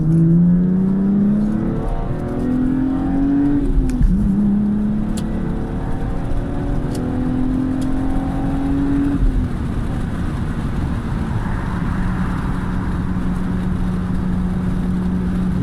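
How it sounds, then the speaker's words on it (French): A Lexus fitted with a lightened flywheel accelerates up a highway on-ramp, its engine note climbing steadily through the gears with brief dips at each shift, loud and close from inside the cabin. "Tiens, là il y a une entrée de 4 voies, on va pouvoir accélérer un peu."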